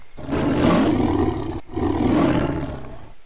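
Two long, loud roars from a tiger in the video game Far Cry 3, close and heavy, separated by a brief gap, with no talking.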